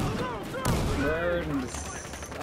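Rapid gunfire bursts crackle through a chaotic Battlefield Heroes team deathmatch, with a sharp blast near the middle, all mixed under overlapping voices and game effects.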